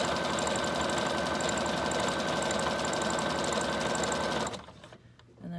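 Sewing machine stitching through junk journal pages, running steadily and loud for about four and a half seconds before stopping, leaving quiet room sound.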